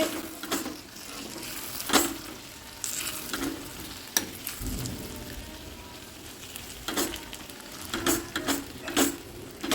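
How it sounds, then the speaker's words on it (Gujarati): Tomatoes and capsicum stirred and cooked in a pan for a fresh turmeric vegetable dish, with a steady sizzle broken by intermittent scraping stir strokes and clinks throughout. "હવે ટામેટા અને કેપ્સિકમને સારી રીતે મિક્સ કરી લેવાનું છે"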